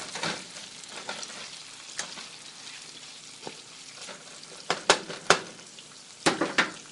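A breakfast scramble with bacon sizzles in a pan while a utensil stirs it, a continuous frying crackle broken by several sharp scrapes and knocks against the pan, close and fairly loud, with no voices.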